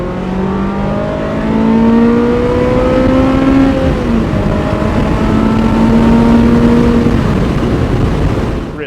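A 1999 Ferrari 355 Berlinetta F1 with a naturally aspirated engine revs loudly and close, its pitch climbing through a sustained high-RPM run, easing briefly, then rising again before cutting off.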